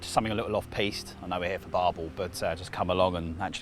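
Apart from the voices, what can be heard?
No everyday noises stand out.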